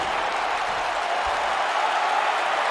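A steady wash of arena crowd noise in a WWE 2K wrestling match, a constant cheering roar with no breaks.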